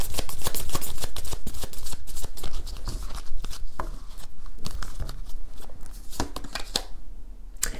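Oracle cards being shuffled by hand, dense rapid riffling and slapping of card stock, loud and close, in continuous bursts with brief pauses.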